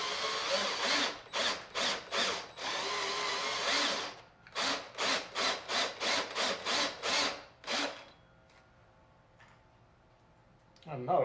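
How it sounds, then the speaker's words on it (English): A drill bores a hole through the body of a brand new 2024 Polaris Ranger XD 1500 Ultimate during a mirror install, loud bursts of cutting broken by a rapid series of short pulses, then stopping into near quiet. "I'm not a fan of cutting a hole in a brand new machine."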